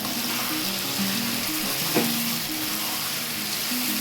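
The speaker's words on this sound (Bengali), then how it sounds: "এই মাংসটাকে কষতে থাকবো।" Mutton curry meat fries with sugar and salt in a hot pan, a loud, close, continuous sizzle with a brief scrape of stirring in the middle.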